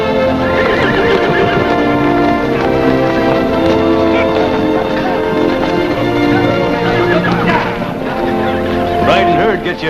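Horses whinny and neigh loudly while hooves clip-clop steadily alongside, a busy continuous scene in an old Western film with riders heading to a corral.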